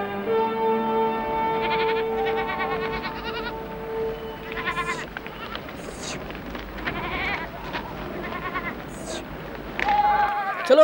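A herd of sheep bleats repeatedly, with several overlapping calls at varying distances. Some sustained tonal sound opens the passage, and brief human vocal sounds mix in among the animals.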